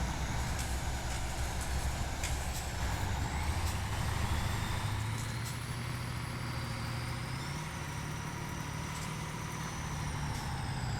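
Truck engine revving in second gear in the Spintires off-road game, a steady loud drone whose pitch climbs gradually, alone without talk.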